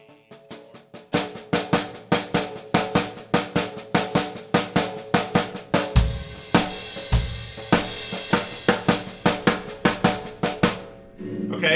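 Snare drum practice of accented eighth-note triplets, with accents on the first and third notes and no double stroke in the middle: a fast, even stream of crisp strokes with regular louder hits, played close and unaccompanied.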